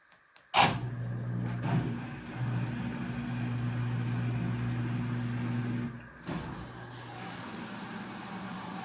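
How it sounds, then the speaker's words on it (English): A Miele PWT6089 washing machine starts its fill cycle with a sharp click, then a steady humming rush of inflowing water that holds for several seconds, stops briefly, and resumes more quietly. There is no talking. "It's filling with water right now."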